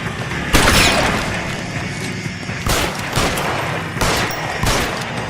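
Gunfire in L.A. Noire, several sharp loud shots spaced irregularly over a few seconds, with echoing tails and mechanical clatter between them.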